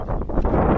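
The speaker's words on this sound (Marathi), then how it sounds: "काय वारा सुटताय" Wind blows hard across a hilltop and buffets the microphone with a low, steady, rumbling roar that fills this short moment.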